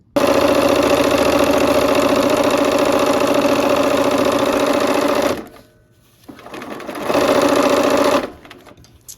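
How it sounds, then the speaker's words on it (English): A sewing machine stitches quilt pieces for a barn quilt sampler, running loud and steady for about five seconds, stopping, then giving one more short burst. "let's go ahead and sew that"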